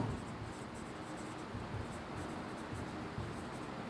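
Pen or marker writing an accounting entry on a board or paper, a continuous scratchy rubbing with rhythmic strokes over steady background noise, no talking.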